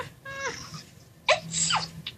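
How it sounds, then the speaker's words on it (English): A young woman's small, high-pitched sneeze, a quick squeaky intake followed by a sharp, cute burst and a tiny trailing sound, heard close up and alone in a quiet room. "she has a cute sneeze"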